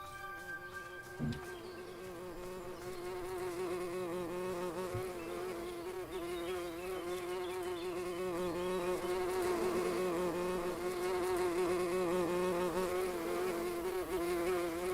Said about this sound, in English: Oh, those are bees.